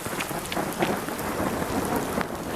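A hailstorm pours down near a river, with steady dense hiss of rain and hail and a low rumble of thunder throughout, no voices.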